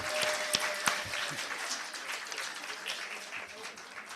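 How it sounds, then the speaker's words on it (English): Applause from attendees at a joint open board meeting, a dense, steady spread of clapping from a moderate-sized crowd that fades slightly over about four seconds, with a few sharper claps near the start. "Now you can clap."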